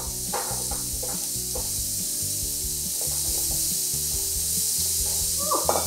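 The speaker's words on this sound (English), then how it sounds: "Hear that sizzle?" Seasoned broccoli sizzles steadily on a sheet pan preheated in a 425-degree oven, a bright, even crackle with a few soft clinks and scrapes of handling, and no talk.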